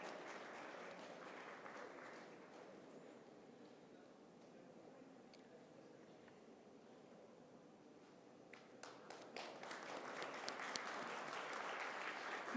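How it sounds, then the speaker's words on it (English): Applause at a moot court competition award ceremony, faint and distant, fading into a quieter lull before a fresh burst of crowd clapping builds and grows louder near the end. "Many congratulations. A huge round of applause."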